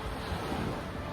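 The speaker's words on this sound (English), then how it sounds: "Enjoying the waves." Ocean waves wash onto a beach in Maui, a faint, soft surf wash mixed with light wind noise, brief and without voices.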